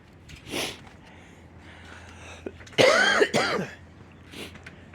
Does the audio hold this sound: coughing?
yes